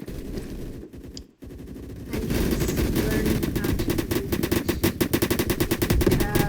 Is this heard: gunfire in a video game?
yes